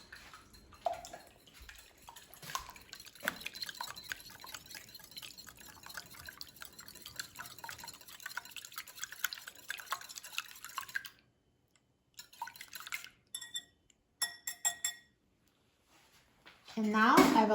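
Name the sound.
whisking eggs with milk in a bowl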